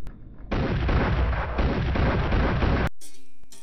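Gunfire at a shooting range in the video game Hitman Contracts, a dense, loud sustained barrage of shots for about two and a half seconds that cuts off abruptly into quiet.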